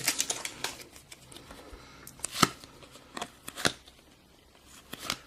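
Packets of Panini Champions League football cards being torn open and cards riffled, with sharp crinkling, ripping and flicking bursts spread irregularly over a quiet background, close by.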